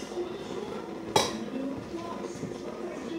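A cooking pan being coated with oil for white rice, with a single sharp metallic clank of the pan partway through against quiet kitchen background and faint hum.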